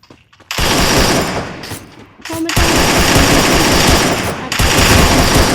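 Automatic weapons fire in the mobile shooter game Garena Free Fire: loud, rapid bursts that run almost continuously, with a couple of short pauses between strings of shots.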